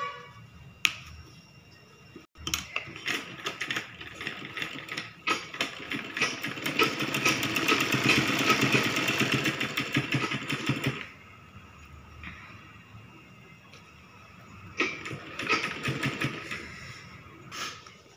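A sewing machine runs in a long, steady whirring stretch while stitching small tucks on a baby frock made from a men's old shirt, with brief starts and stops and clicks before and after, close by and alone.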